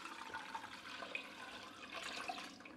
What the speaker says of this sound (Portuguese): Aqui eu vou pôr 1 litro de água, temperatura ambiente.